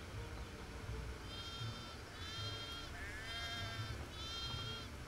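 Goats in a pen in the Gothic II game bleat four times in separate nasal calls, spaced about a second apart over a low, quiet background.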